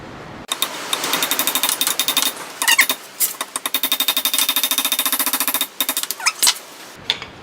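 Rapid repeated hammer blows on a punch drive a spindle shaft out of a Sieg X2 mini mill, sounding as dense, sharp metallic rattling bursts with brief pauses, loud and close.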